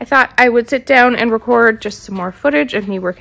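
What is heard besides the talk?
No everyday noises stand out.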